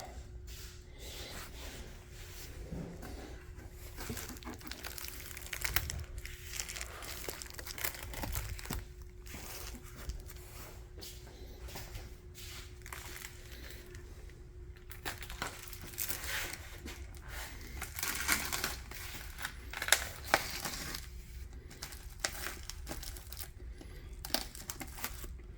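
Tape being cut and peeled with a razor blade in a garage while wrapping parts on a Ford Anglia street rod project, giving a long run of crinkling, tearing and crunching noises close up over a steady background hum.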